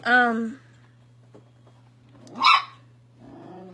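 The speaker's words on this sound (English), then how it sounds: "that's my crazy dog" A dog barks and growls in bursts, loud near the start and again midway, with a person speaking over part of it.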